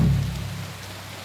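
Steady rain falls in the medieval world of Kingdom Come: Deliverance 2, a soft, even patter with a low rumbling undertone that eases off slightly over the moment.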